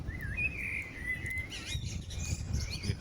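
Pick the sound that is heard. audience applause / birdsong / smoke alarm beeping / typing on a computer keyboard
birdsong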